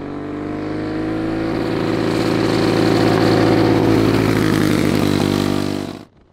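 A Predator Ghost 212 racing engine pulling a kart on a track, a loud, steady high-revving buzz climbing gradually in pitch, close and continuous, before cutting off abruptly near the end.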